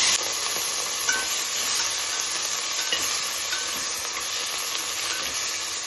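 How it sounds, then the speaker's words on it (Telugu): Cluster beans stir-frying in a pan, a steady close hiss of sizzling with faint scraping of the spoon throughout, no voices. "నీట్గా ఒలిసి కడిగి పెట్టుకున్న మట్టికాయలు ఇందులో వేయాలి"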